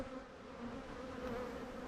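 Honey bees buzz steadily over a heavy brood comb frame lifted from a nuc hive, a dense continuous drone close to the microphone with no talk.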